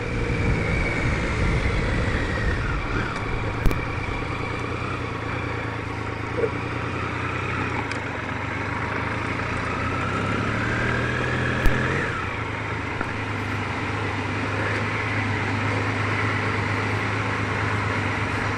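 Motorcycles ridden by stunt riders practising for public shows drone steadily at a distance, a continuous engine rumble with rising and falling revs and a few faint knocks, no voices over it.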